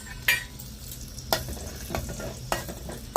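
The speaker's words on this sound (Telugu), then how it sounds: "పప్పు, ఎండు ద్రాక్ష అయితే ఎంచుకుందాము." Cashews and raisins fry in hot ghee in a pan, giving a steady soft sizzle broken by several sharp scrapes and clinks of a stirring spoon against the pan.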